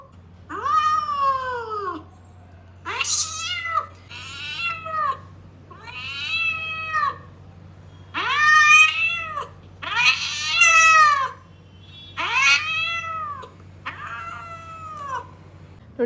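Kittens meow repeatedly in a series of close, loud, rising-and-falling cries with short pauses between them, over a low steady hum, while something plays nearby.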